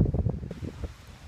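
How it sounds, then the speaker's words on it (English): Strong outdoor wind buffeting a microphone on a windy Thanksgiving day, low rumbling gusts that pulse unevenly and ease off in the second half. "It's really windy, as you guys can tell."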